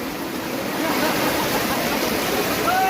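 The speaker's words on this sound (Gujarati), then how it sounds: "ડેલાની અંદર તમે જો કેટલી સ્પીડમાં પાણી આગળ વધી રહ્યું છે" Floodwater rushes through a village gateway in Bhadrod near Mahuva during heavy rain. It makes a steady, loud, broadband roar that stays constant and close, with no talk over it.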